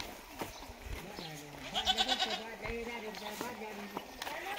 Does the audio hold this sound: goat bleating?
yes